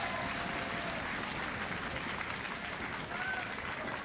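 A studio crowd at an LCS League of Legends match between Cloud 9 and Dignitas applauds continuously, dense and steady clapping with cheering filling the room throughout.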